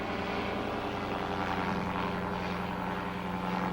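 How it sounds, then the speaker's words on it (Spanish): A small motorized delta hang glider with a condor-shaped wing, flying over the Sacsayhuaman ruins, gives off a steady, loud propeller-engine drone that holds constant for the whole stretch with no voices. "Utilizando un pequeño motor delta con forma de cóndor, nos elevamos sobre Sacsayhuaman"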